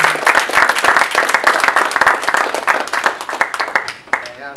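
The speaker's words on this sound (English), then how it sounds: "Let's have one more round of applause for our scholarship winners" An audience applauds scholarship winners at a ceremony, with sustained, dense clapping from many hands that thins out and fades near the end.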